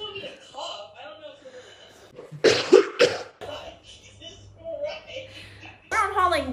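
Two sharp coughs from a person stand out in the middle of ongoing speech, close and fairly loud, with talking before and after them.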